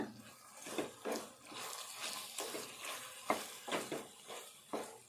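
Bitter gourd and green chillies frying in a pan, with a soft sizzle under repeated scraping and stirring strokes that come in an irregular rhythm, close by and moderately quiet.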